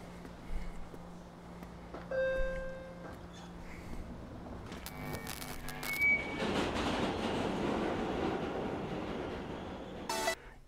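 Subway train ambience with a steady rumbling roar and rail noise throughout, growing louder in the second half, with brief tonal squeals and whistle-like notes, in a music video of a musician playing on a subway.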